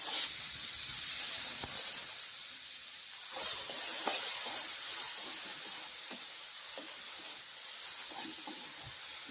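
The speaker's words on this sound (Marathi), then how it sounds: "त्यामध्येच हे आपण टोमॅटो टाकून घेऊया आणि अद्रक लसूण पण त्यातच टाकायचे आहे" Tomato, ginger and garlic sizzle in a hot pan for Kolhapuri misal, a soft continuous hiss with scattered small crackles and pops, heard close and alone.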